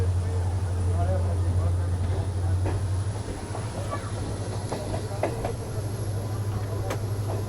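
The 17641 Narkher Intercity Express rolls on after leaving Umri station, heard from on board as a loud, steady low rumble with faint rhythmic wheel clicks and an even hum throughout.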